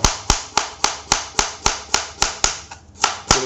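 A knife chops fresh ginger into small pieces on a cutting board, a steady rhythmic series of about a dozen sharp, evenly spaced chops, close and clear.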